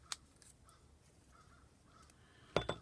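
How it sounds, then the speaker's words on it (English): Seagulls that have come inland near Halifax Harbor give a sharp, loud call at the start and another near the end, with fainter calls drifting in between over quiet outdoor background. "The seagulls have come inland when I'm not far from the Halifax Harbor"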